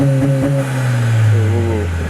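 A 2015-era MK7 Volkswagen Golf GTI with an AWE exhaust revving under throttle, a loud droning engine note rising in pitch, close by and alone.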